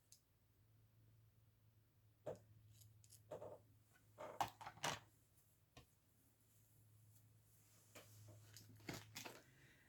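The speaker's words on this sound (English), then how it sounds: "let's just cut a piece off the corner" Scissors snip a piece off the corner of a paper sheet for a window coin envelope, several quiet, close, separate cuts spaced unevenly over a low background hum, with no voices.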